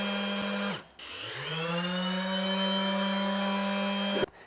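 A Milwaukee M18 FUEL 5-inch random orbital sander switches on with a click. Its motor whines up to a steady, loud, continuous hum and runs for several seconds before shutting off with a sharp click.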